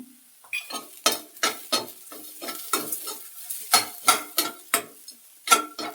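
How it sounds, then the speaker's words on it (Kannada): Food stir-fried with turmeric in a hot pan for a Brahmin-style bean curry, heard as a steady series of sharp scraping and stirring strokes with a soft sizzle underneath, close and alone with no talking. "ಬಾಂಡ್ಲಿ ಬಿಸಿಲೇ ಒಂದೆರಡು ಸುತ್ತು ಹುರ್ಕೊಳ್ತೀನಿ ಈಗ ಅರಿಶಿನ ಹಾಕ್ಕೊಡ್ತೀನಿ"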